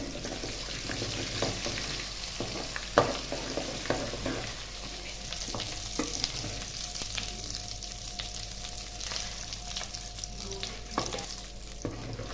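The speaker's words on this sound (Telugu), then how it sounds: "ఇప్పుడు దీన్ని దోరగా వేగనిస్తాం తాలింపుని" Dried red chillies and tempering spices crackle and sizzle in hot oil, a constant hiss with occasional sharp pops and a few stirring scrapes, no talking.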